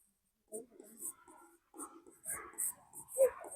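A pen writes on a board during a maths lesson, producing soft, faint scratchy strokes in short bursts, mixed with quiet speech.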